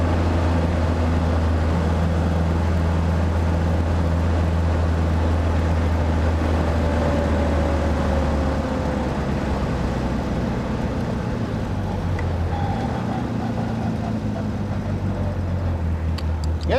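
1959 Morgan Plus 4 drop head coupe drives along the road, its engine giving a steady, continuous low drone with faint shifts in pitch under wind and road noise.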